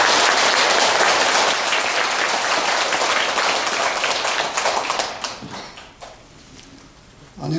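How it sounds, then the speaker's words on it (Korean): A hall audience at a Buddhist year-end Wednesday Dharma service gives a monk a dense, sustained round of applause that holds strong, then thins and fades toward the end. "모두 큰 박수로 스님을 환영해 주시기 바랍니다"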